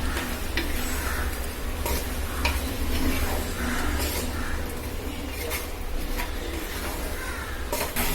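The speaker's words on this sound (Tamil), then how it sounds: "இப்போ நல்லா கலந்து கொதிச்சு வந்துருச்சுப்பா, நல்லா பெரட்டியாச்சு." Nookkal koottu with chana dal simmers in a pot while a spoon stirs through it, giving a soft steady bubbling and sizzle with occasional scraping and clinking, moderately close and without voices.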